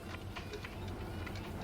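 A three-car video game train rolls along its rails, a steady low rumble with a faint rhythmic clatter running continuously throughout, quiet and even.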